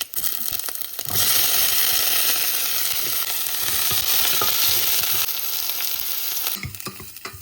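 Onion, curry leaves and green chilies hit hot oil and fry with a loud, steady sizzle that swells after the first second, holding strong with faint stirring scrapes before easing off near the end; no voices.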